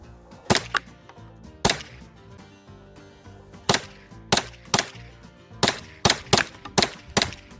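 A TNW ASR rifle fires rounds at a target in a string of sharp, loud cracks, with single shots and short clusters spaced irregularly and close, and no talking between them.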